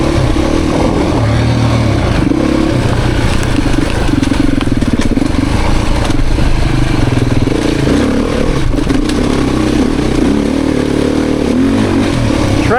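Beta Xtrainer dirt bike, a 2023 model, ridden off-road through ruts, its engine loud and close throughout with steady revving, throttle changes and engine braking, plus clattering from the bike over rough ground.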